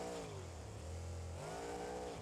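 Supercharged and turbocharged monster truck engine in BeamNG.drive revving steadily, a loud continuous drone whose pitch drops, holds low, then climbs again near the end, with no voices.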